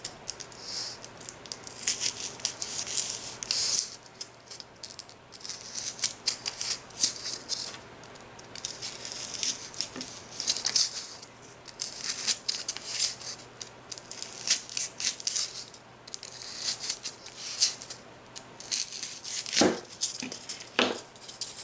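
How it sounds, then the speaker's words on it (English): Light scraping and cutting with an X-Acto craft knife on Dollar Tree Easter egg decor, a run of small crisp scratchy strokes and taps at close range, no talking. "I'm just going to take my X-Acto knife and do the same thing."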